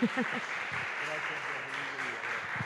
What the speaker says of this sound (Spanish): un aplauso para el maestro que nos acompañó esta tarde